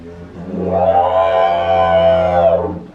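A voice rises and falls in a buzzing, siren-like glide, imitating a siren with lips for a few seconds, close and fairly loud.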